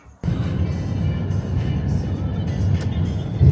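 A car engine idles steadily inside the cabin, a continuous low rumble heard from the driver's seat with no talking over it.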